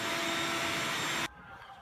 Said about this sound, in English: I'll have to move that vacuum around